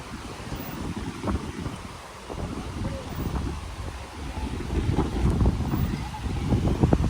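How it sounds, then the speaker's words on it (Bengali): Strong wind at the Mandarmani seaside resort, buffeting the microphone with low rumbling gusts that swell and build toward the end, steady and close with no talk. "এত হাওয়া দিচ্ছে।"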